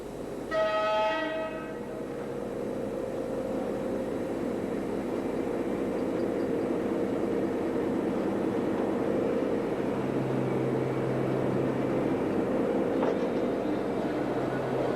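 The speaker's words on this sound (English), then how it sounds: "The train travels through the bunker house." A merry-go-round coal train rumbles steadily through a colliery bunker house, with a short horn blast at the start, the heavy rolling noise continuing without pause.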